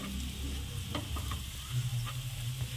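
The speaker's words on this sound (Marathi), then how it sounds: "आता यामध्ये आपण आलू ॲड करू छान असं हलक्या हाताने मिक्स करू" For dum aloo, potatoes are gently stirred into sizzling masala in a pan. A close, steady frying crackle runs throughout, with soft stirring scrapes and a low hum underneath and no speech.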